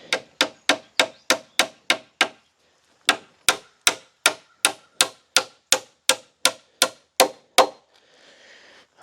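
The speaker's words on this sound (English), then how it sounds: "I've just got some 3-inch galvanized nails. I'm going to angle these hopefully pretty steep to prevent these from coming out the other side of the wood." Three-inch galvanized nails are hammered into a wooden floor joist for an insulated shed floor, heard as loud, sharp, evenly spaced hammer strikes in two quick runs with a short pause between them.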